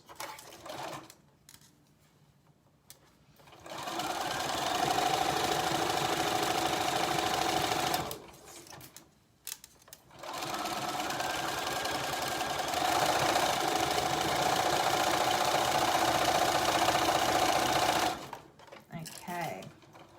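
A sewing machine stitches a 1 cm seam allowance around a piece of fabric in two long close bursts, with pauses between and a short burst at the end, and a quiet voice in the gaps.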